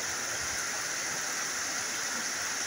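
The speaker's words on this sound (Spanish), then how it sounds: "Miren esta hermosa lluvia," Steady, dense hiss of rain falling during a storm in the lowlands of Baracoa, Puerto Cortés, Honduras, a continuous broadband wash with no talk.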